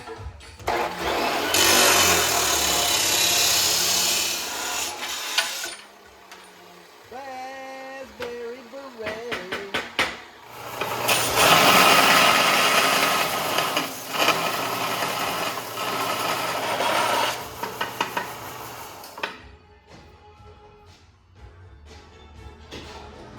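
Power saw cutting steel air-bag suspension tubes on a 4-link build for a Shoebox Meteor, two long loud harsh cutting runs with a pause between, closing on lighter clatter and handling noises.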